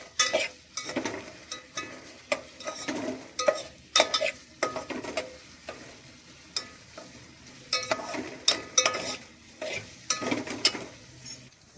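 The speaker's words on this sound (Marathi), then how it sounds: "मस्त त्याला परतवून घेऊया." Onions stir-fried in a pan for chicken biryani, repeated scraping stirs over a soft sizzle, close and fairly quiet with no talking.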